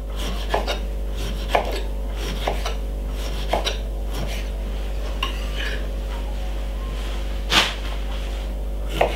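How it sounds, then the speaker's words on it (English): Soft scraping and cutting sounds from a knife working at fruit, with occasional sharper knocks against a board, steady and close with a low hum underneath. "remove the skin from the lemon."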